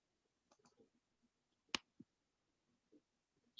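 Quiet mouse clicks at a computer during a virtual community town hall, a few soft isolated taps with one sharper click standing out, close and alone without talk.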